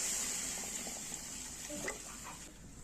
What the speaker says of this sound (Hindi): बर्तमान आम मसलार पानी देदेले